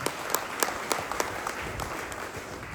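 A seminar audience bursts into steady, dense applause, a continuous close crackle of many hands with a few sharper claps standing out, with no speech over it.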